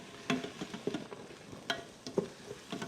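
Onions, zucchini and carrot stirred in a pan, soft sizzling under repeated scraping knocks of a spoon, quiet and close with no voices.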